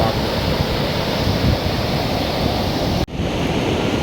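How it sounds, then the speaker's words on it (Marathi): Rough sea waves crashing at Gavkhadi beach on the Konkan coast, a dense, loud continuous roar of surf with wind buffeting the microphone and a brief cutout near the end. "लाट दरिया खवळला आहे उडतोय"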